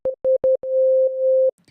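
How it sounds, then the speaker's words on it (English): Pure sine tone from an FL Studio synth's default preset: three short stabbed notes, then one long sustained note of about a second, steady and clean, with no talking over it. "It's just a sine wave."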